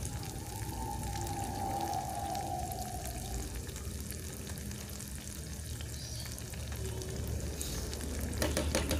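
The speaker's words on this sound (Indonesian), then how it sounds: "Selanjutnya ini kita aduk-aduk rata biar saus-sausannya ini juga ikut termasak ya" Steady sizzling from a pan as tomato sauce for black pepper grilled sausages fries, with a utensil stirring and scraping through it and a brief clatter near the end.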